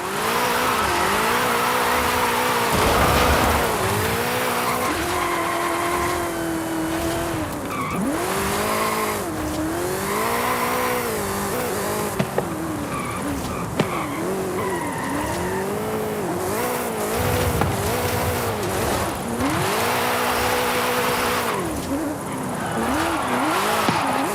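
A car drifts in a racing video game, its engine revving and tyres squealing in long wavering sweeps, loud and continuous over game music for the whole stretch.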